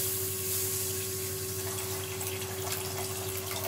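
Water is poured into a pan on the stove to start sugar syrup for gulab jamun. A close, steady stream of liquid runs continuously under a constant background hum, brief and uninterrupted.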